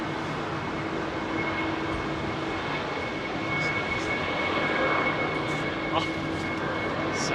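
CFM56-powered Boeing 737 jet on runway 27R at snowy London Heathrow in winter, a continuous broadband engine rumble with a steady whine, slowly swelling, while a voice briefly speaks over it.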